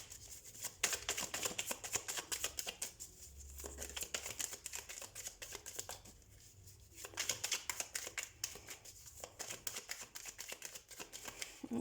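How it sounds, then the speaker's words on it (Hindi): Tarot cards riffled and shuffled by hand in a run of dense, papery bursts with brief pauses between, close and fairly quiet, no talking. "हम थोड़े बहुत और कार्ड शफल कर लेते हैं।"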